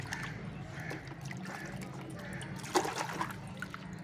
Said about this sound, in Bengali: এই বালতির মধ্যে একটু সাফ ফাঙ্গিসাইড দিয়ে দেবো, দিয়ে আমি এই শিকড়গুলোকে ধুয়ে নেব।